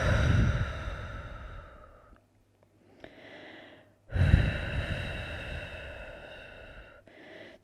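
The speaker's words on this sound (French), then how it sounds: "on va prendre quelques bonnes respirations en soufflant par la bouche" Deep breaths blown out through the mouth during a yoga session, two long heavy exhalations with a quiet inhale between, close and alone.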